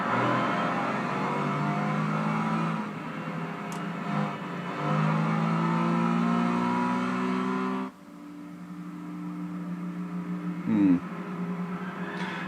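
Replay of a car race in Gran Turismo 6 at night, with a steady engine drone that holds through sustained revs and drops in pitch partway through, ending with a brief surge.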